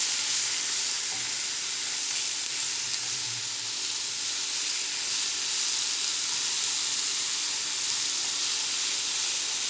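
Wholewheat tortilla flatbread cooking in a new pan, a steady bright sizzle and hiss that holds constant throughout, close and unbroken with no talking.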